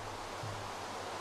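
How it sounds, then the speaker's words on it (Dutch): Steady broadband wash of ocean waves in the Minecraft video game, continuous and even throughout with no voices. "Stomme golven, laat me eruit!"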